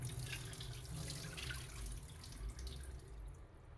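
A faucet pours a steady stream of water into a kitchen sink to soak banana blossoms, a continuous hissing splash that stays even and fairly close throughout.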